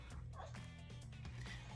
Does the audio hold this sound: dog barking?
yes